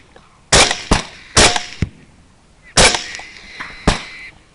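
Rifle shots fired at running hogs during a night thermal hunt, four sharp, loud reports spaced about a second apart, each followed by a short echo tail.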